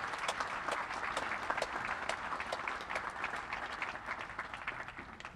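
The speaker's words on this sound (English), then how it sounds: "please join me in a round of applause for our faculty award winners" A large audience at an Army War College graduation ceremony applauds faculty award winners, with dense, steady clapping that holds at an even level from start to finish.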